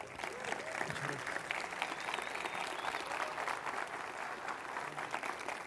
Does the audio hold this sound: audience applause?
yes